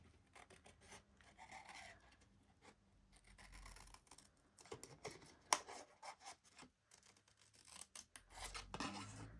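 Scissor blades snip and rasp through paper in a series of irregular cuts, close by, with rustling between strokes and no talking.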